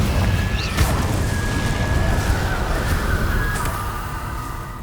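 Confringo fire blast spell exploding in the Hogwarts Legacy video game: a loud, sustained burst of roaring rumble with crackling hits and a few sharp swishes, dense and continuous throughout with no talk over it.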